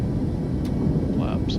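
Boeing 737 jet engines roaring during takeoff rotation and gear retraction in Microsoft Flight Simulator 2024, a steady, dense low rumble with brief higher cockpit tones, under someone speaking.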